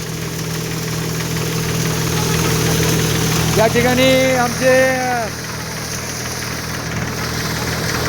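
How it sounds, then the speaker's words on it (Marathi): Tractor-driven threshing machine running while sorghum is threshed on a farm, a loud steady mechanical drone and hum that holds throughout, with someone speaking briefly over it midway. "या ठिकाणी पाहू शकता आपण ज्वारीची मळणी चालू आहे."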